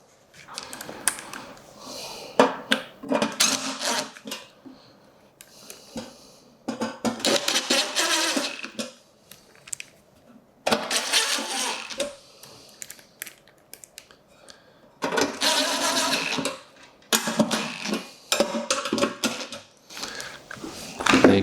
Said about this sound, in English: Grab a drill.